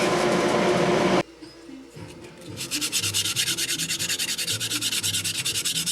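Landing gear wheel pants for a Windy U Master 907 model plane are hand sanded, with quick, rhythmic back-and-forth rubbing strokes close up that follow a short, loud burst of harsh grinding noise.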